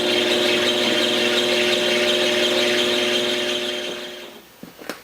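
A drill grinds through thick steel plate on a 1941 Dodge Power Wagon during a Cummins 6BT diesel conversion. A steady, loud, droning whine holds for about four seconds, then stops with a few small clunks.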